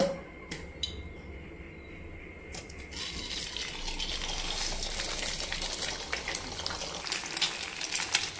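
Eggs hit hot white oil in a kadai and burst into a bright sizzle after a few quiet seconds. The frying grows louder and stays lively to the end.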